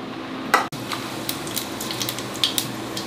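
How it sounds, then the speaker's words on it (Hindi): Boiled potatoes, onion, green chilli, curry leaves and spices for dosa masala fry in a pan, a steady close sizzle broken by a few scraping stirs and light clinks of a utensil. "इसको थोड़ा सा फ्राई कर रही हूँ"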